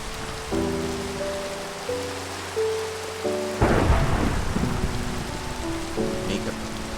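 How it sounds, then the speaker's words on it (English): Minecraft thunderstorm with steady rain hissing throughout and a loud rolling thunder crash midway, heard under bright game music tones and sound effects. "I don't feel comfortable being this close to the storm"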